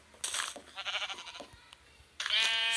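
Sheep in a survival video game bleat several times in short wavering calls, one after another, with a louder bleat at the end, clear and close.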